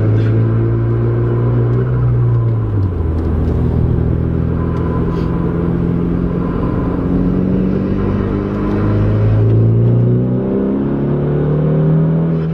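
A Renault Megane RS engine revs loud and close, its pitch climbing and dropping as the clutch slips in third gear, a continuous strained drone with a low rumble throughout.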